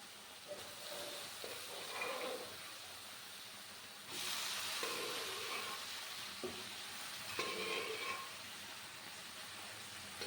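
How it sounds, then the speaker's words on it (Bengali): Boiled bottle gourd tipped into hot spiced oil in a pan, giving a steady broadband sizzle that swells in bursts as the pieces go in and are stirred, close and fairly loud, with no talk. "এবার এর মধ্যে সেদ্ধ করে রাখা লাউটা দিয়ে দিলাম।"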